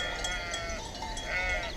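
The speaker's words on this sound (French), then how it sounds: "Nous avions un troupeau de chèvres assez nombreux." A herd of goats bleats in a desert valley camp, several overlapping wavering calls close by, steady and moderately loud throughout.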